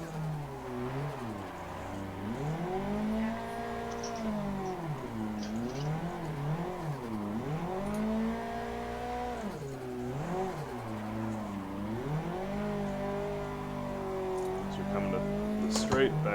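A simulated car engine in second gear in the Assetto Corsa racing game, on a drifting track, rises and falls in pitch through repeated rev swells, steady and fairly loud with a constant rumble underneath.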